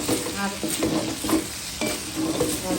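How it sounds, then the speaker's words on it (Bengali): Sliced okra sizzles as it fries in a pan and is stirred in repeated scraping strokes, close and fairly loud. "আস্তে আস্তে ভাজা ভাজা হয়ে যাবে"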